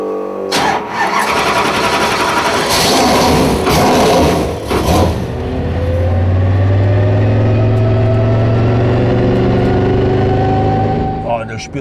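A NASCAR race car engine on a racetrack starts up, then revs and accelerates. The throttle bursts are rough in the first seconds, then the loud, close engine drone climbs steadily in pitch before easing off at the end.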